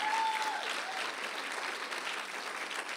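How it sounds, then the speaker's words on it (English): Church congregation applauding at a Sunday service, steady dense clapping throughout, fairly loud and close, with a brief tone at the start and no talk over it. "Give him a hand clap right now."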